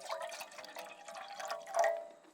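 Bottled water poured into a camp box pot at a remote mountain lake campsite, a soft, close liquid trickle with faint splashing that swells briefly near the end.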